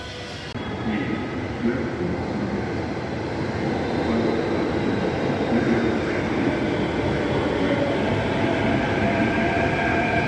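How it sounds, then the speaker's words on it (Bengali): A Mumbai metro train runs on the airport line, a loud continuous rumble and rattle of wheels on track that swells after a brief start and holds steady throughout. "মেট্রো আরও এগিয়ে যাবে সামনের দিকে"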